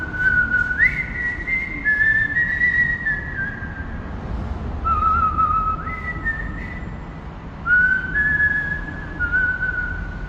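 A man whistles a melody outdoors near a pedestrian underpass in the UK, clear sustained notes in three phrases with short pauses between them over low background hum.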